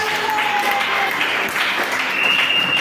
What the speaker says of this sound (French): On va acclamer le Seigneur pour ce temps de reconnaissance.